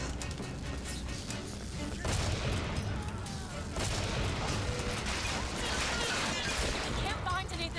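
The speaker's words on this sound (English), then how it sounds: "Who's shooting at it?" Gunfire crackles in the video game Bioshock Infinite, with bursts of shots over a dense, continuous battle din, while a player talks over the action.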